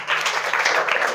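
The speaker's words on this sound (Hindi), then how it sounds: "इसके लिए भी ताली बजा दो" A group of children claps together in a classroom, a brief burst of steady, bright applause.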